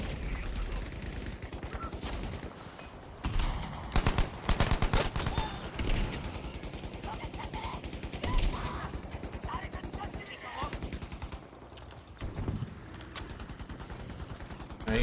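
Dense, loud bursts of counter gunfire crackle through a video game battle, with rapid volleys and machine-gun strings running almost continuously, briefly dipping and then surging again.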